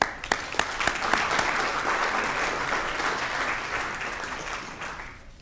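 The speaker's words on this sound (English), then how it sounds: "Please join me in a final round of applause." Guests at a Scout recognition dinner give volunteers a final round of applause; a few sharp early claps swell into dense, even clapping that slowly fades away.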